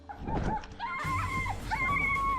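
A dog barks and yelps outdoors at night near a guarded woodland camp, a run of harsh, tonal barks that grows stronger and more sustained after the first second, fairly close and loud.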